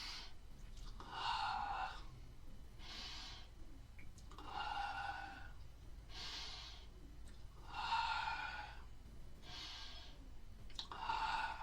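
Slow, deep breaths repeat steadily during a standing movement-awareness exercise, each airy inhale and exhale rising and fading in an even rhythm, close and soft with no talking.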